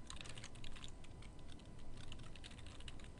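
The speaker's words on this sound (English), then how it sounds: "I'm just going to go ahead and type it in" Someone types on a computer keyboard, a steady run of close, moderately loud key clicks lasting a few seconds.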